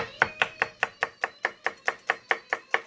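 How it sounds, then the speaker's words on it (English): Peeled garlic cloves sliced thinly with a knife on a board, about fourteen crisp, evenly spaced chops in quick steady rhythm, close and clear with no talking. "once you get your garlic peeled, you're going to just slice it"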